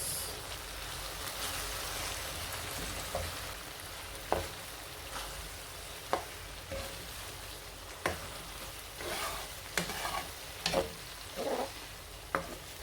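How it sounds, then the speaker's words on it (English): Vegetable sauce with onion, scotch bonnet and a little garlic being stirred in a pan, a steady soft sizzle broken by scattered spoon scrapes and taps, close and fairly quiet. "Then you stir it."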